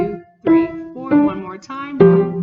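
Piano plays a short beginner melody phrase from a tune with a handful of distinct notes in slow, even succession, close and clear with no talking.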